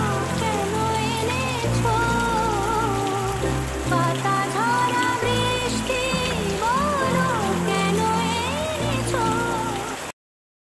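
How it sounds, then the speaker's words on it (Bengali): Heavy overnight rain pours steadily as a dense hiss, with loud melodic tonal sounds like music playing over it until the sound cuts off abruptly near the end. "প্রচুর জোরে বৃষ্টি হচ্ছে"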